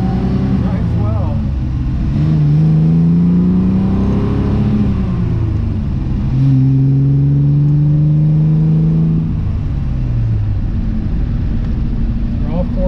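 A 1967 Austin Healey 3000 BJ8 MKIII engine during a test drive, loud and close, with its pitch rising through the gears and dropping at the shifts, steady engine drone throughout.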